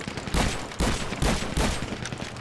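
Shotgun fire in GTA 5 Online, a kill-quota match: four heavy blasts at a steady rhythm, each loud and close with a short tail, no talk over them.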